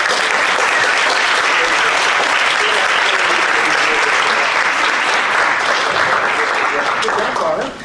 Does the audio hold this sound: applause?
yes